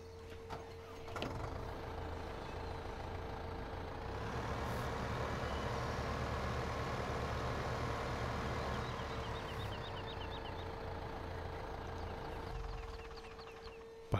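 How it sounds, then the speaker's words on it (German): A low, steady video game tractor engine rumble in Farming Simulator 15 (LS15), idling and revving faintly, with a constant tonal hum and occasional mechanical clatter. "ich fahre mal den Traktor hier zur Seite"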